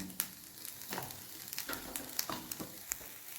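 Fenugreek seeds with small shallots roasting in a dry pan for ulli theeyal, giving a quiet, crackly sizzle scattered with light scraping taps, faint and steady throughout.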